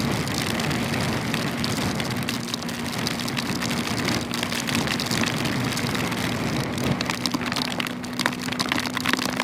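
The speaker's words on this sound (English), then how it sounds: "Rain is considerably less crack than I thought it was." Rain during a bike ride, a steady dense hiss of drops and wind noise that holds throughout with a low hum underneath.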